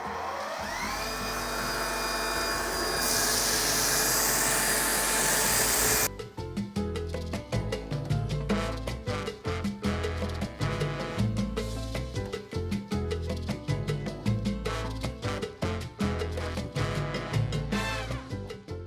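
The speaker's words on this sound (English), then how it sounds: "let's foam from the bucket with the foam can" A battery-powered pressure washer sprays foam drawn from a bucket through a foam can, giving a loud, steady motor whine for about six seconds before it turns into a pulsing, rhythmic stream of noise that carries on to the end.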